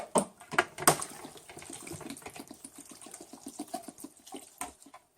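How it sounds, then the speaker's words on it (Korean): Water splashing and sloshing as cooked rice for sikhye is rinsed in a bowl, a few sharp clinks at the start followed by a soft rhythmic swishing, close and without talking. "물에 이렇게 한번 헹궈서 물을 쭉 빼줄 거예요."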